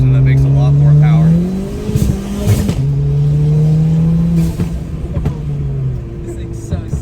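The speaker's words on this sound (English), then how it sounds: "It's the blow-off valve and like the pops and bangs map" A race car engine revs hard inside the cabin, its blow-off valve hissing and its exhaust popping and banging on a pops-and-bangs map, while people talk over the loud engine.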